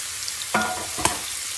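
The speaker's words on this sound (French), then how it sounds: "Ici, j'ai mis ma poêle avec de l'huile d'olive. Donc, je vais mettre gentiment mes petites patates douces dedans." Small sweet potato pieces drop into a pan of hot olive oil, setting off a low frying sizzle with two brief crackling bursts of contact, close and fairly quiet.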